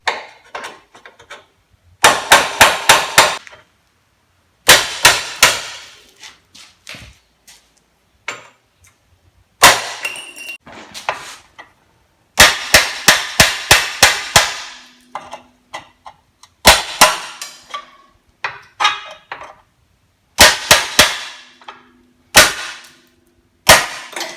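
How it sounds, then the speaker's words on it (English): Sharp metallic hammer strikes on a chisel and punch driving out rivets on a 1994 Ford Ranger, in rapid bursts of several blows separated by short pauses, close and loud with no talking. "I'm gonna take a hammer and chisel and punch and drive this stuff out of here."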